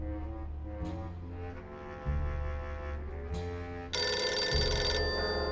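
A telephone rings in the video game Grim Fandango. The rings are loud, sustained electronic tones that shift in pitch and get brighter and harsher toward the end, with no speech.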